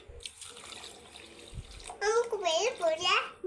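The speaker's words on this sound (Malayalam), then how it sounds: "നമുക്കിനി വെള്ളം ഒഴിച്ചു കൊടുക്കാം" Water poured into a mixer jar of guava for homemade juice: a soft running trickle at first, then someone talks loudly over it near the end.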